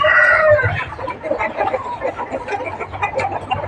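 Gamecocks on a Thai fighting-cock farm cluck and call near at hand, with a rooster crowing at the start amid steady bird chatter and a voice talking through it.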